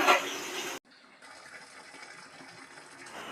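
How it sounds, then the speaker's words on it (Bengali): Cold water runs from a kitchen tap in a steady loud gush for under a second, cuts off sharply, then a softer stream of running water continues at moderate level to the end. "ঠান্ডা জল ছেড়ে দিয়েছি"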